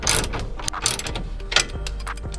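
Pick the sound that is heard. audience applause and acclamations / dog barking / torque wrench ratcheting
torque wrench ratcheting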